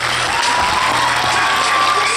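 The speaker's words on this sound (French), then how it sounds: "La voilà, on l'applaudit bien fort." Sustained applause and cheering from a film premiere audience welcoming the cast of Five, a dense, loud wash of clapping hands with crowd noise throughout.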